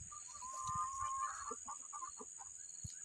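Chickens cluck on a farm in hot, dry weather, with scattered short clucks fairly close by and a rooster-like call at times over a steady high insect-like whine, no talking.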